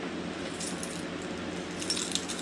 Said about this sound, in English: I usually have something on my keychain.